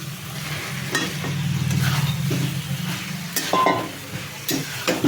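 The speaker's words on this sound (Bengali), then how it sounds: "ভালো করে মশলার সাথে মিক্স করে নিলাম, নাড়াচাড়া করে তারপরে জল দিলাম।" Potato and cauliflower pieces stirred into spice masala in a pan, with soft sizzling, several scraping spatula strokes and a light metallic clink, heard close with no speech.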